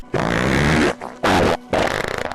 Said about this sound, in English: that was a scarily realistic and immersive farting sound